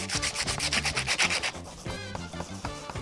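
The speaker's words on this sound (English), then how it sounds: "So as I'm sanding, I can see the Terrazzo pieces peeking through." A hydroflow terrazzo casting is wet-sanded by hand, giving rapid, rhythmic scrubbing strokes that are close and fairly quiet, with no voices.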